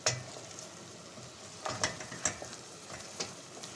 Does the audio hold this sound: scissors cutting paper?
no